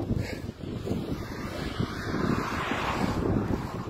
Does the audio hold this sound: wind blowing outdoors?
yes